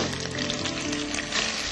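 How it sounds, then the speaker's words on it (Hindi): Cumin and khandvi frying in a pan, a dense, continuous sizzle heard close and loud, with no voices. "जब जीरा ब्राउन हो जाएगा तो हम इसमें ये खंडवी जो है इसको लाइट फ्राई करेंगे।"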